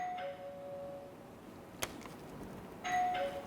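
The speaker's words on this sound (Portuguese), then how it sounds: "Tá tocando a campainha, vamos ver o que é." A household doorbell chimes twice, a clear ding at the start and again near the end with a short tap in between, heard indoors against a quiet background with no talk.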